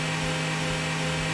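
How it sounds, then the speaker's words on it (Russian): Chainsaws grinding against each other in Garry's Mod, a steady loud buzzing engine drone with a constant low hum running through the whole stretch, no voices over it. "как они внимательно пилы тупят друг об друга"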